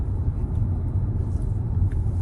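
Inside a 2021 Range Rover Sport driving with the panoramic window closed, a steady low engine and road rumble drones on, moderately loud and even, with no voices.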